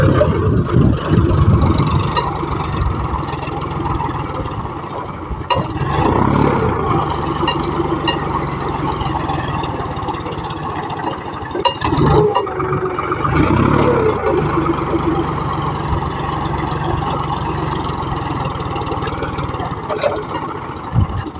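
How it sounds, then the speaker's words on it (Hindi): A tractor engine running in high range first gear, a loud, steady diesel drone with a low rumble that swells and dips slightly throughout, alone without talk. "अभी ट्रैक्टर हाई के पहले गियर में चल रहा है।"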